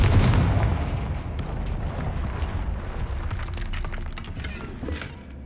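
A blasting spell detonates in the video game Hogwarts Legacy, a loud booming burst with a rumbling tail and scattered crackling debris that fades over several seconds.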